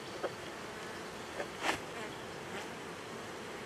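Feral honeybees in a hive box hum as a continuous, fairly faint drone, with a few brief buzzing passes from individual bees close by, and no one speaking.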